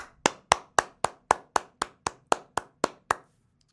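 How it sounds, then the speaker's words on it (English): Twelve sharp, evenly spaced claps ring out one after another in a slow steady rhythm, close and distinct, as children clap for themselves during a radio science lesson. "Let's clap for ourselves."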